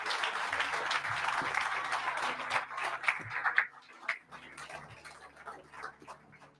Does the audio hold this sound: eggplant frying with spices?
no